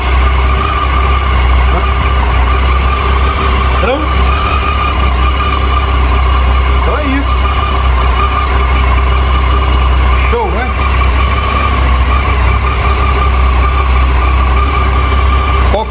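A motorcycle engine idles nearby with a steady low throbbing hum that holds at constant level throughout, while a voice talks over it.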